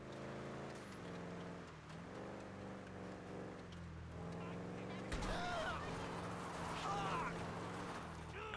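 A fast personalised car being driven in the GTA V video game, its engine droning and shifting pitch with a revving surge midway, over constant game noise and background music.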